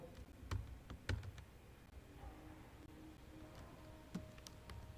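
Computer keyboard keys tapped in a few scattered sharp clicks, with a short cluster near the start and more later, moderately close, while software is used to prepare teaching documents, no talk.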